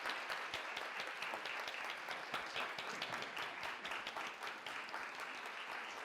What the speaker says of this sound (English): Edna, please rise for an applause and accept your award.